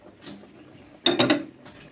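Metal lid lifted off a pot of boiling sinigang sa miso with salmon belly, a short close clatter and rattle of lid against pot, with quiet kitchen noise before and after.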